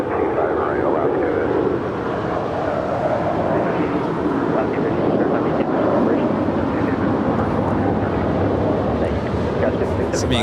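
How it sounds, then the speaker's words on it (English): An Alaska Airlines jet takes off from runway 25 right at Los Angeles International Airport, a loud sustained engine roar with wind buffeting the microphone, continuing steadily throughout. "Let's take off runway 25 right, Alaska"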